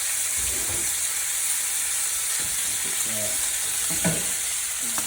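A porterhouse steak sizzles and fries in a greased pan, producing a steady broadband hiss throughout, with occasional soft clinks and shuffles of handling underneath.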